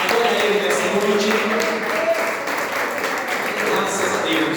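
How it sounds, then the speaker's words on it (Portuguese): A church congregation claps for Jesus, giving a steady wash of applause that lasts the whole stretch, with voices mixed in beneath it. "bate palmas para Jesus"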